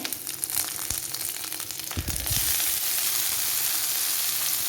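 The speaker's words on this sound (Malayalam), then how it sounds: "അപ്പോൾ ഉള്ളി ഞാൻ ഇത്രയും മൂപ്പിക്കുന്നുള്ളൂ. ഒരല്പം കറിവേപ്പില ഇട്ട് കൊടുക്കാം." Sliced onion fries in hot oil with a crackling sizzle that swells into a louder, denser hiss once curry leaves go in, heard close with light stirring and no talking.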